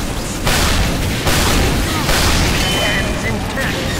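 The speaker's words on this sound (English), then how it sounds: "Oh, fireworks." Loud booming explosions go off in the video game Team Fortress 2, several heavy blasts in quick succession, each with a sharp onset and a crackling tail.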